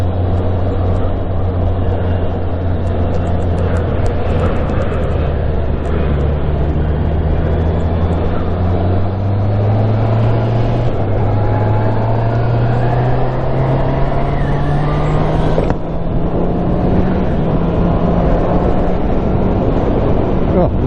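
A Honda CB650R or Yamaha MT07 motorcycle engine drones loudly and steadily, rising in pitch through the gears with brief shift dips, heavy wind rumble throughout and some talk mixed in.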